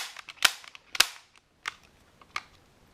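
A few sharp, snappy clicks from a Colt M1911 CO2 airsoft pistol dry-fired without a CO2 cartridge, four distinct snaps spaced unevenly with faint mechanical clatter between, close and fairly quiet.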